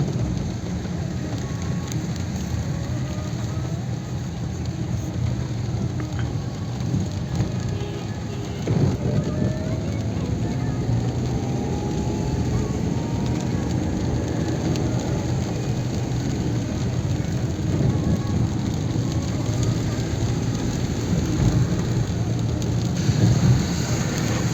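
Heavy rain pours steadily over Delhi streets with a low rumble of thunder beneath it, a dense continuous wash of sound that stays loud throughout with no break.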